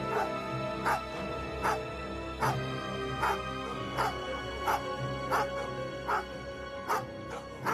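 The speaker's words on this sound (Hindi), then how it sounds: "बिजुका को जमीन पर गिरा पड़ा देखकर कुत्ते उसकी ओर भागे।" Several dogs bark in a steady, repeated pattern of sharp yips and bow-wows, about a dozen evenly spaced barks, moderately loud over a constant droning background, used as a horror story sound effect.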